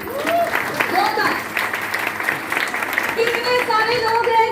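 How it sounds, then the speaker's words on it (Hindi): Seminar audience in a hall claps loudly and continuously while a presenter's voice carries over the top, the applause forming a dense, even bed of many hands. "एक बार जोरदार तालियां आप सभी के लिए, जोरदार"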